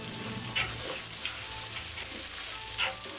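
Chopped onion and garlic frying in olive oil in a pan for salt cod, a dense, even sizzle with occasional soft stirring scrapes, close and steady throughout.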